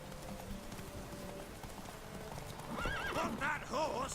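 A horse in The Witcher 3 trots with a steady clip-clop of hooves, then gives a loud, wavering neigh near the end, with faint talk underneath.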